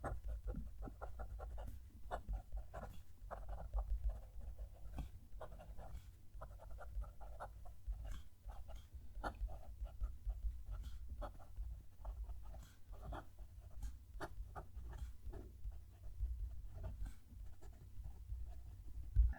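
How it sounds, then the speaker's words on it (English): Gold-nibbed Pilot Custom 823 fountain pen writing on paper, a soft continuous scratchy scraping with small irregular strokes, close and quiet over a low steady background hum. "There's a lot more audible noise coming from it as I'm writing."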